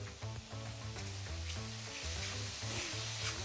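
Butter sizzles and crackles in a pan with soft-cooked rice and mushrooms, a close, steady frying hiss with faint stirring clatter and no talk.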